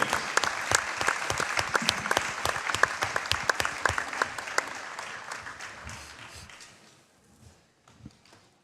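A crowd applauds the seniors at a high school volleyball match between the Saints and Crestwood, with sharp individual claps standing out from the steady clapping. It fades out near the end, leaving a near-silent tail with a couple of stray claps.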